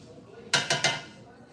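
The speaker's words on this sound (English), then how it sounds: "This is a 28-ounce can. That's gonna go in." Three quick metallic clanks in a row as a 28-ounce can of tomatoes is tipped and knocked against a cooking pot, fairly close and crisp over a quiet room.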